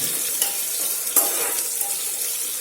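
Curry leaves fry and crackle in a hot pan while being stirred, giving a soft, steady sizzle with a few sharper pops and scraping stirs, close and alone.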